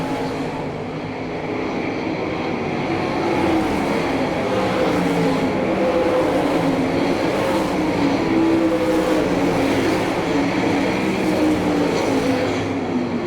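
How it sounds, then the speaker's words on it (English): Sprint cars at a dirt oval speedway in Hartford, Ohio, a sustained loud roar of racing engines with rising and falling passes across the whole stretch, distant and continuous without pauses. "Right now, the race for fourth and fifth between the 47 of Larson and a double zero of Jason Statler"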